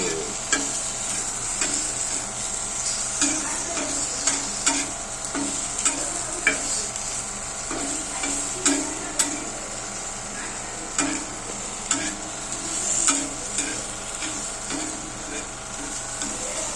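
Dosa batter cooks on a hot pan with a bright steady sizzle, punctuated by regular scraping and tapping strokes of a spatula, close and fairly loud throughout.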